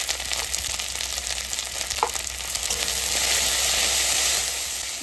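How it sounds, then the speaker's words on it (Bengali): Spices with salt and turmeric sizzle steadily in hot oil already seasoned with cumin and bay leaf, a continuous close frying hiss with a brief stir scrape near the middle, no voices. "মশলাটা কষানো হয়ে গেছে"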